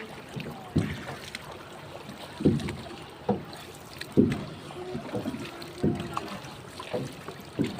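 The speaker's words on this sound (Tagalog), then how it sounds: "Ito, may kasalubong ko yung bangka dito." Water sloshes and slaps in irregular bursts as a banca (outrigger boat) moves past, with wind noise buffeting the microphone in the background.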